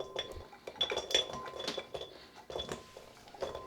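Raw red beets tumble into the bowl of a Vitamix 780 blender, making a quick run of close, light clinks and knocks against the container.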